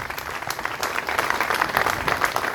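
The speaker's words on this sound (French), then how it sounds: "Vous pouvez l'applaudir très fort." An audience claps for a trainee koi judge at a France koi show awards ceremony, a short burst of lively, fluttering applause at moderate loudness.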